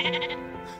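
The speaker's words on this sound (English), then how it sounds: "we have this big beautiful sheep" A single short sheep bleat, close and clear, wavering briefly before fading.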